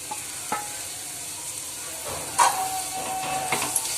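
Amaranth leaves and chickpea flour curry are stirred in a pan, giving a soft steady sizzle broken by a few scraping clicks of the spoon against the pan, one of them louder.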